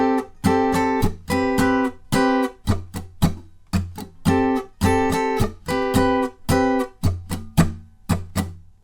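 Electric guitar plays chord changes, with rhythmic muted strums and sharp choppy chord hits in a funky repeating pattern, loud and close with no voices.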